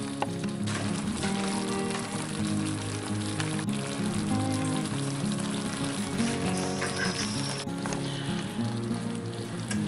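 Sweet and sour pork chops frying in a cast iron pan, a dense, steady sizzle that runs near and loud throughout with small pops and crackles.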